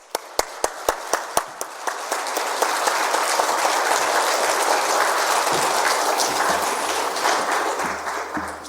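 Warm congregational applause welcomes a pastor to the pulpit at a Korean church's Wednesday evening worship service. A few sharp single claps open it, then it swells into a full, steady round that holds and slowly tapers.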